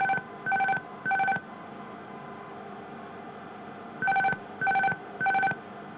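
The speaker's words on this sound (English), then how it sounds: "the cavalry charge sounding" Airbus A300/A310 autopilot disconnect cavalry charge warning in the cockpit: two bursts of three short, sharp electronic chimes each, separated by a pause over steady background hiss.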